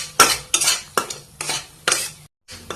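Masala with tomato frying in a pan for a fish curry, stirred in repeated bursts with a utensil scraping and clattering against the pan, about five strokes under a soft sizzle, close and fairly loud.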